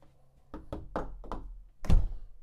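Knuckles rap on the sturdy door of a 2024 Renegade Valencia 38BB motorhome, four quick close knocks followed by a heavier thump, loud and solid with no talking.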